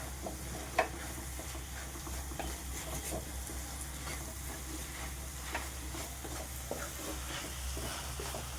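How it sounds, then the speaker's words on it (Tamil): Potato fry with salt and masala being stirred in a pan, a quiet sizzle over a low hum with soft scraping and one sharp clack of the spatula early on. "உப்பு சேர்த்துட்டு கொஞ்சம் நல்லா கலரி கொடுத்துடலாங்க"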